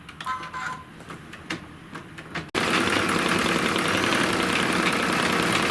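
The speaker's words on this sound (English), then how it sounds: "it's going to stitch out after the little fill on the bats is just going to be a little outline around them" An embroidery machine stitching a small outline around bat shapes, first with sparse clicks and ticks, then abruptly settling into a loud, continuous mechanical whir with a fast rapid pulse, close by.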